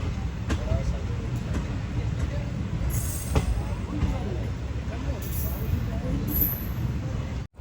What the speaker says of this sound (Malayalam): വരുന്ന ട്രെയിൻ ജമ്മു കാശ്മീരിലെ Shrimata Vaishno Devi cut train ജാംനഗറിലേക്കുള്ള express ആണ്